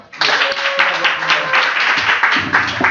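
Applause at a group business workshop, a close, steady crackle of many hands clapping together for nearly three seconds, with some voices mixed in underneath.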